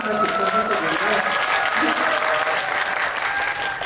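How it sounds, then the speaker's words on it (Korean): Audience applause at a film talk and screening event, a dense, steady patter of clapping that holds for about four seconds, with faint voices mixed in underneath. "오늘 박수를 보내드리고요"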